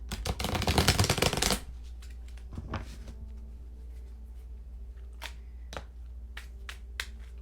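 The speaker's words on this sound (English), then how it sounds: "I am considering getting a few of these clarifier cards, the Visconti Tarot, to throw down on this reading." Visconti Tarot clarifier cards shuffled by hand in a quick, close riffling flurry for about a second and a half, followed by a few soft taps and card snaps in a quiet room.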